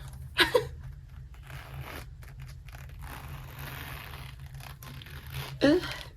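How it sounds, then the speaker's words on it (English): A planner's zipper is pulled in two short raspy bursts, near and fairly loud, at the start and end of a stretch of quiet background hum. "and it's like it zips up."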